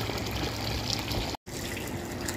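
Water pours steadily into a container while calf feed is being prepared, a continuous full rushing splash with one momentary break partway through.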